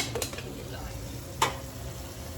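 Paneer and peas being stirred into a hot pan, a soft sizzle of frying underneath with a couple of sharp scrapes and clinks of a spoon against the pan, fairly quiet.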